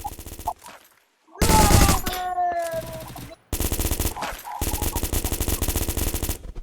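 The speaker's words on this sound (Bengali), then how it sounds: "এই আসলে গুলি করতে আছে।" Rapid automatic gunfire in a shooting video game, loud bursts of rattling shots separated by short gaps, with a brief electronic tone mid-way.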